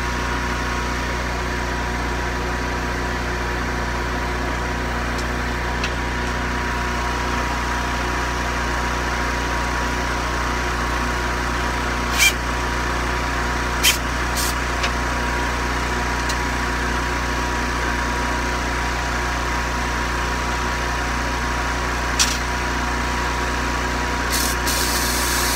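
Portable generator engine running steadily at a constant idle drone for the whole stretch, with a few faint clicks and ticks, no talking.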